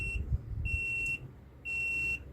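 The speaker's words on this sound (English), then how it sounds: "And it beeps when it's done." A resin mixing machine beeps when its cycle is done, sounding three steady electronic tones of about half a second each at a regular rhythm, fairly quiet against low background rumble.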